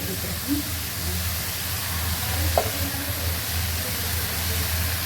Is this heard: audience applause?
no